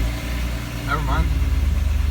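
A 12-volt VW Golf GTI Mark 2 engine turns over and settles into a close, rhythmic, pulsing idle, with a brief voice heard around the moment it catches.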